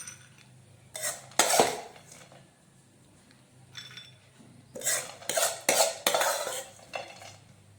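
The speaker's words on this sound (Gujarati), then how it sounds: "હવે આપણે આ બાઉલમાં નીકાળી દઈએ" A spoon scrapes a roasted date-sweet mixture from a pan into a bowl, with irregular metallic clinks and scrapes close by, clustered in two busy stretches separated by quieter pauses.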